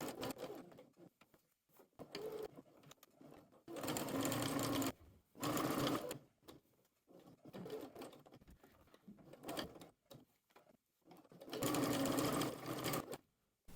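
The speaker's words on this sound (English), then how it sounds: "edge stitch until you get all the way to the other side of the hem" Edge stitching along a dress hem, a sewing machine runs close in several bursts, some long and some brief, with quiet handling noise in the pauses.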